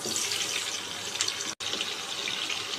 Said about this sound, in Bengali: এবার এই তেলটার মধ্যে আমরা দিয়ে দেবো কিছুটা কুচিয়ে রাখা পেঁয়াজ